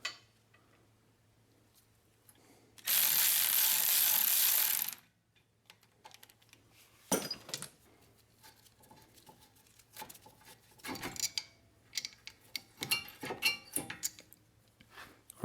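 A brake caliper bolt comes off a Honda CR-V during a front pad and rotor change, with a loud steady burst of an impact gun for about two seconds, then scattered ratchet clicks and metallic taps.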